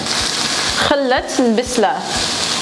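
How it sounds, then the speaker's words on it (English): Onion fries in a pan with a steady, even sizzle that runs under people talking throughout. "So we're cooking our onion until it's about translucent."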